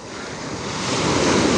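Sea waves at a beach wash in steadily and loudly, a broad roaring surf that swells in volume toward the end, with wind buffeting the microphone and no voices.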